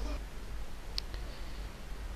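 A computer mouse is double-clicked: two quick, soft clicks close together, faint and alone over a low background hum.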